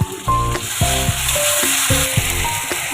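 Gobindobhog rice frying with potatoes and onion in a wok gives a steady close sizzle, with stirring scrapes and clunks of the utensil breaking through at intervals; no one speaks.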